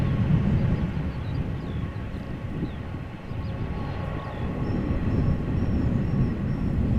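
An airliner landing at Amsterdam Schiphol with no thrust reversers deployed, heard as a steady distant engine roar and rumble that dips briefly and then swells again, with no talking.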